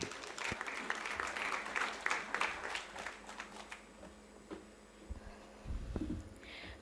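Audience at a college Rotaract installation ceremony claps in welcome, a fairly faint, uneven patter of applause in a hall that thins out toward the end, with some low room rumble.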